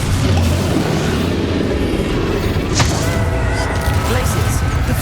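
Fiery Confringo spell blasts booming in a Hogwarts Legacy battle, a dense rumbling din of impacts and thuds under continuous combat noise, with a sharper crack near the middle.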